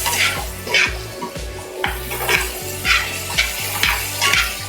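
Garlic sizzles in rendered chicken, bacon and sausage fat for a slow cooker cassoulet, a steady crackle broken by rhythmic scraping and knocking of a utensil stirring the pan, close up with no talking.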